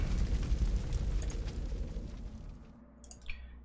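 Artillery explosions from the WWII strategy game Panzer Corps 2 rumble as a deep, continuous roar with low booms that slowly fades, ending with a few faint crackles.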